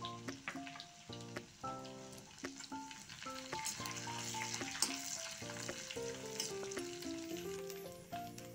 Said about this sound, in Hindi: ये मिर्चें भुन गई हैं